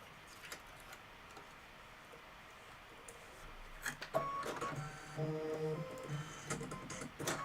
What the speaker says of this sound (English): This is going to be 3 minutes of stitching. It's going to go around the hat.